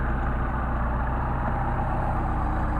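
A car engine with a Solex carburetor idles steadily at 750 RPM, a close, even low rumble with no other sound.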